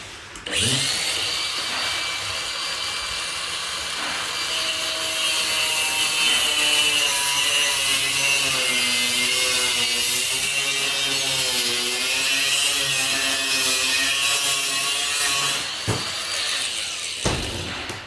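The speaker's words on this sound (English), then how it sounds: "get yourself a cut-off wheel" A cut-off wheel slices through a turbo oil drain part with a loud, sustained grinding whine that wavers slightly in pitch, running continuously for about sixteen seconds before stopping abruptly.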